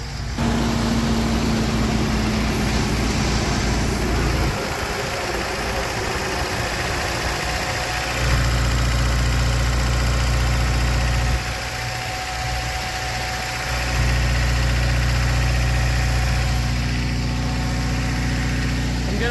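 A Toyota 4Runner engine idles steadily while warming up after a thermostat replacement, a constant close low rumble with slight shifts in level throughout and no talking.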